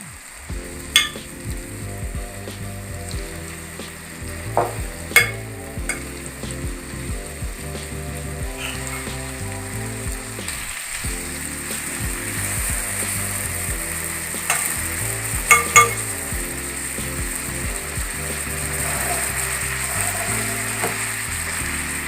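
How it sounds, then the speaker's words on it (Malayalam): Chicken tikka pieces sizzle and crackle steadily in butter in a pan over low heat, with occasional metallic clicks and scrapes over the continuous frying hiss. "നമുക്കിനിത് ബട്ടർ വെച്ചിട്ട് വേണം വറുത്തെടുക്കാൻ"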